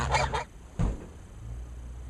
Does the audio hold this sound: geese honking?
yes